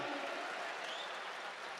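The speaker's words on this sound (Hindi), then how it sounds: "ताली बजाओ" At a Hindi hasya kavi sammelan comedy poetry event, the audience claps in a short, even burst of many hands, heard from a moderate distance and fading slightly at the end.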